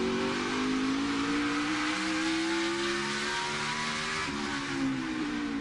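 NASCAR stock cars racing at Martinsville during a 2017 fall playoff race: loud, sustained engine howls with shifting pitch as the cars run close together, a dense continuous roar with no talk.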